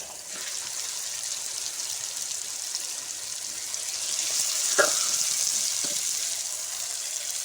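Chopped tomatoes frying with softened onions and garlic in a pan for tandoori chicken gravy, a continuous close crackling sizzle that swells midway, with a couple of brief utensil knocks.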